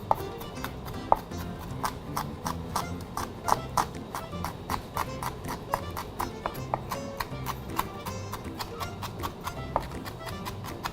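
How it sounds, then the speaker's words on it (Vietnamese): Garlic and chili minced finely with a knife on a board: rapid, even, close taps repeat steadily throughout, alone without talk. "Các bạn băm thật nhỏ phần tỏi và ớt ra."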